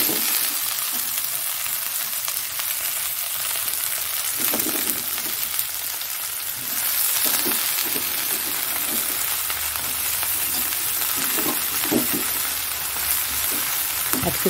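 Yardlong beans and potatoes fry in a little oil with a steady, close sizzle that continues throughout, broken by occasional soft stirring knocks, no speech.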